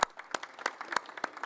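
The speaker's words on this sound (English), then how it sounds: "A round of applause for Marc." At a panel on mega events and human rights, a sparse audience applauds a speaker's introduction: a handful of distinct, fairly close claps spaced out over a quiet room, more scattered than a full ovation.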